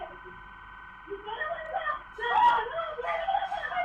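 A female police officer screaming during a shootout in a car chase in Argentina, starting as a whimpering cry and breaking into louder wailing screams that come in bursts over background noise.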